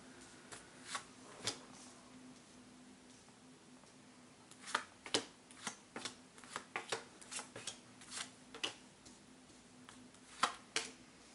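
Tarot cards laid out one by one into a ten-card Celtic Cross spread, sharp close snaps and taps of cards hitting a table, scattered at first then clustered, under a faint steady hum.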